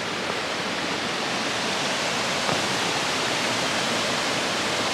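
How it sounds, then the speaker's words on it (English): Small cascading waterfall on the Appalachian Trail, a steady broadband rush of falling water, loud and close, unbroken for the whole stretch with no voices. "Oh, that's a super beautiful little cascading falls."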